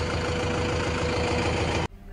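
A Mahindra Arjun Novo 605 DI-S 50 HP tractor engine idles steadily and loudly up close with a rumbling knock, cutting off abruptly near the end.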